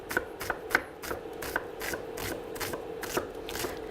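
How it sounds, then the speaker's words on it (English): A knife finely chops an Italian shallot on a board in a steady run of about a dozen light, crisp taps, close and quiet. "I'm just going to cut an onion here, finely chop."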